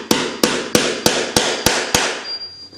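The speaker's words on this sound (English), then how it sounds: "Just kind of nail them in place." Seven sharp, evenly spaced taps of a tack hammer ring out close by, driving small tacks into a handmade cowboy boot in a steady rhythm before trailing off.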